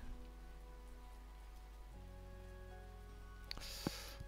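Soft, steady rainfall from the video game Our Adventurer Guild patters quietly under a low game tone, with a couple of brief clicks near the end.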